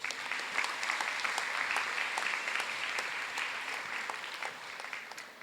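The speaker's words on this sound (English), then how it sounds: "Another round of applause." A crowd at a high school commencement ceremony gives another round of applause for award winners. The clapping is steady and dense but sounds fairly distant and soft, and it fades slightly toward the end.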